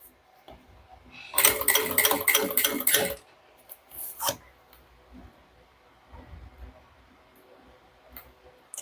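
Sewing machine stitching the seam of a fabric shoulder bag, a fast rhythmic needle run of about two seconds followed by a few scattered clicks and handling noises, close and moderately loud.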